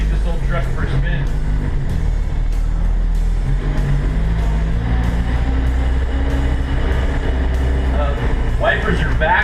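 A 1962 International Scout truck drives along with a loud, steady low engine rumble and road noise heard from the cab, with a few clunks and rattles near the start and end.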